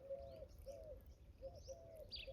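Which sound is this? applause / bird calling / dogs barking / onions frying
bird calling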